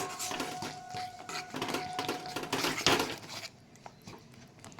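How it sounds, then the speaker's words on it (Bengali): Pieces of mutton dropped into spice masala in a hot pan, a soft sizzle with scattered clinks and scrapes of a utensil, close by, with the sizzle fading toward the end. "এবার আমি মাংসগুলো দিয়ে দিলাম মশলার মধ্যে।"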